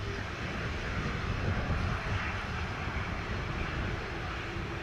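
An American Airlines jet takes off on runway 07 at Sangster International Airport, Montego Bay, a steady broadband engine roar heard from a distance and holding level throughout.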